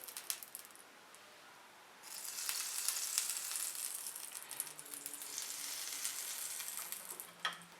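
Buttered sandwich set onto a hot grill pan: a soft clink, then a sudden broad sizzle that swells and holds steadily, close and fairly quiet, with small crackles throughout.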